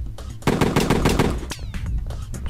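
A stapler-like gun fires in a first-person shooter game test, giving rapid bursts of loud, sharp clicking shots in close succession, then a few scattered single shots.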